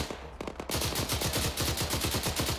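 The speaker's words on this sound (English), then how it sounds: "rookies are shooting at us" Rapid automatic gunfire from ArmA 3 combat, a steady stream of evenly spaced close shots after a brief scattered burst, loud and continuous with no talk.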